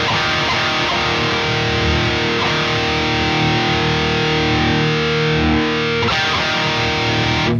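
An electric guitar plays through a Diezel VH4 amplifier on its third channel, giving loud, heavily distorted, saturated chords that ring out and sustain, then briefly cut and restart near the end.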